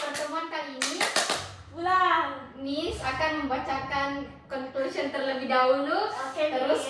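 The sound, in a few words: class applause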